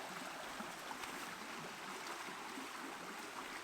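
Fast-running stream water rushing steadily in the outdoors, a constant broadband hiss and gurgle heard at low level with no pauses or other sounds.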